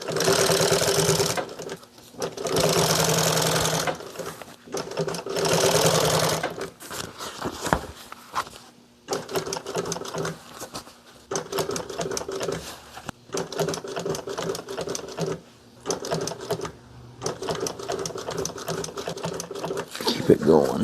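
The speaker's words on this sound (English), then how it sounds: "I'm going to back sew that too a little bit." A domestic sewing machine back-stitches fabric in repeated bursts of fast rhythmic clatter, stopping and starting, with a person talking in between and under the stitching.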